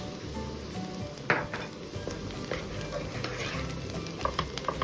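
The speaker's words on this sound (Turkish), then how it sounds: "Salçalarla birlikte tekrar soğanımızı kavuruyoruz" Onions fry in a pot with tomato paste and pepper paste, sizzling steadily while a spoon stirs and scrapes, with a sharp clink of utensil against the pot.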